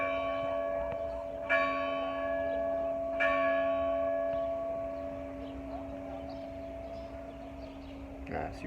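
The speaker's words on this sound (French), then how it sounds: "Je laisse les cloches sonner" Church bells ring in a resonant, sustained peal, with two clear strikes standing out against a steady humming drone that lingers throughout.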